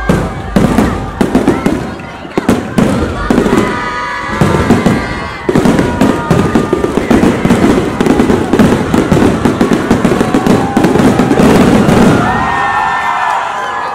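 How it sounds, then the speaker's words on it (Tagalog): Loud fireworks crackle and bang in rapid bursts at Enchanted Kingdom theme park, with a crowd cheering and people talking underneath. "what a beautiful day to end it with a wonderful fireworks display"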